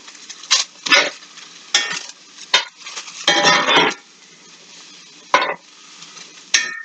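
Turnips and potatoes sauté in a pan, with sharp bursts of stirring and scraping as they are flipped, each rising above a soft, quieter sizzle between them.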